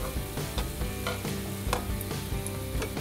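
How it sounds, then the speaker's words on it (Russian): Syrniki made from farmer's cheese and semolina fry in a pan over medium heat, giving a dense, steady sizzle and crackle close up, with no talking. "и обжариваем на другой стороне на среднем огне"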